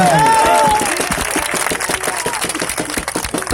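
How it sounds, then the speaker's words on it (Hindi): At an AAP political rally in New Delhi, a large crowd breaks into dense, sustained applause that follows a brief voice and keeps up as a steady patter of claps. "अपनी तालियों के साथ बताइए"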